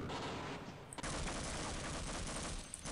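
A new weapon in the video game Half-Life fires in a dense, continuous burst of loud gunfire, with a brief break near one second before the shots resume and run to the end.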